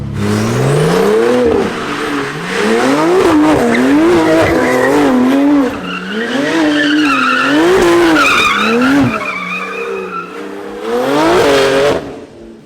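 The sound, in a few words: sports car doing donuts, tire squeal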